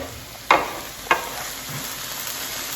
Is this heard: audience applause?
no